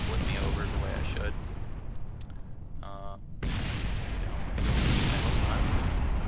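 Dense, rumbling explosions and blasts in Kerbal Space Program fill the clip, loud and continuous, with a brief quieter gap in the middle before the booming resumes.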